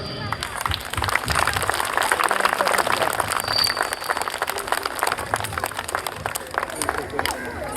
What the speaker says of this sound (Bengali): সকলে করতালি।